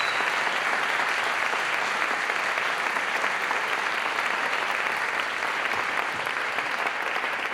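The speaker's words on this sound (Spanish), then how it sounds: "Un aplauso muy fuerte para ella." Loud, sustained audience applause at an awards ceremony, thick continuous clapping from a large crowd that holds steady for several seconds with no talking.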